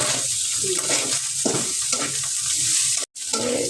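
Chopped onions and green chilies fry and get stirred in a hot pan for a chicken noodle and pasta dish, a loud close sizzle with scraping stirs and a brief cut near the end.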